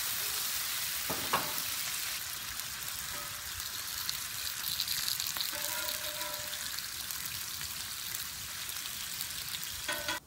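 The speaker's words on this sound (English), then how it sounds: "Okay, so I've got this bacon about where I want it." Bacon frying on a Camp Chef Pro 90X flat-top griddle, a quiet continuous hissing sizzle with a couple of brief scraping knocks, no speech.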